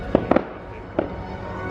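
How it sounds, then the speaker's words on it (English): Fireworks at a theme park on its closing day go off as four sharp bangs, three in quick succession and then one more, at moderate distance over a low background rumble. "Some of the fireworks."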